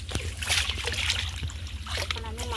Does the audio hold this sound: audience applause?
no